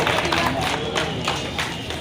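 A crowd at a labour union meeting in Ayub Nagar claps to welcome Shashikant Shinde, a dense, continuous patter of applause held at a steady level over the whole stretch.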